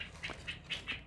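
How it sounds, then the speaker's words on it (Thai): Faint, quick bird chirps repeat in a short series of bright, high notes against a soft outdoor background. "มีเสียงนกร้องด้วย"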